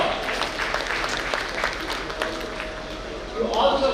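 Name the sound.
audience applause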